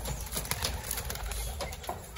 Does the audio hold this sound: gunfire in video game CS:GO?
no